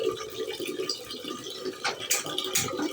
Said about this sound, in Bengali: এক থেকে জল ঢেলে নিয়ে আর ভাতটা বসিয়ে দেবো